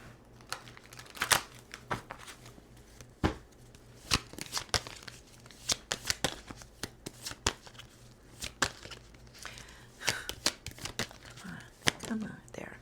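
Tarot cards are shuffled by hand in a quiet room, producing soft crisp flicks and papery slaps in irregular bursts, with faint voice sounds underneath.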